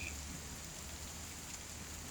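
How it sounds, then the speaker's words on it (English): A thunderstorm ambience from a virtual tabletop map plays as steady, quiet rain with a constant hiss and a soft low rumble, unbroken and without talk. "I've got some special effects going on for a thunderstorm that's occurring outside"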